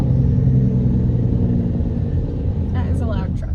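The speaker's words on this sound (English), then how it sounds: "That is a loud truck." A loud truck rolls past in Seattle traffic, a heavy continuous low engine rumble heard from inside a car, with a brief voice breaking in near the end.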